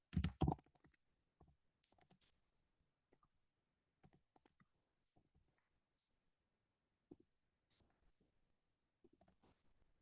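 Quiet, close computer keyboard typing in scattered bursts of light clicks, with a louder cluster at the start and sparse keystrokes and pauses afterwards.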